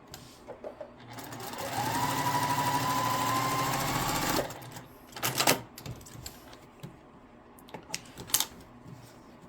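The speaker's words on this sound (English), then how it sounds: "you're going to line the corners up and sew with a 1/4 inch seam." A sewing machine runs in one steady burst of about two seconds, stitching a quilt block strip with a quarter-inch seam, followed by fabric handling and light clicks.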